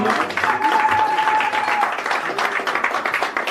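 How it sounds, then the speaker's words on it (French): A crowd applauds the security chief at a community celebration with Congolese mothers, a dense, steady patter of clapping with some voices underneath. "Si nous pouvons applaudir pour notre chef de sécurité"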